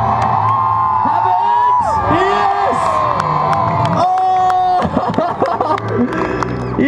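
Crowd at a Danny MacAskill Drop and Roll bike show cheering loudly, with whoops, shouts and children's yells swelling continuously, close and dense throughout.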